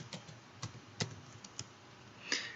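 Soft keyboard typing, a handful of separate key clicks spaced irregularly, ending in a slightly louder burst of keystrokes; fairly quiet and close.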